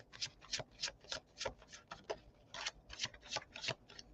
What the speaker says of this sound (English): Oh my goodness, that was a good shuffle.